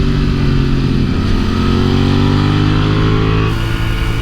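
Royal Enfield motorcycle engine droning loud and close at high speed on a race track's back straight, a sustained steady roar with a slight pitch shift near the end.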